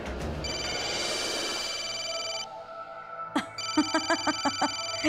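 A telephone in a Hindi TV drama rings with an incoming call: a sustained electronic tone stops, then a rapid series of short, bright ringing pulses follows, fairly close.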